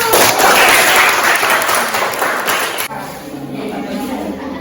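A classroom group claps for the best presenting team, a dense burst of applause that fills the first three seconds and then drops to a faint patter with room noise.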